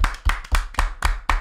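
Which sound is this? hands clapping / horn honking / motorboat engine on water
hands clapping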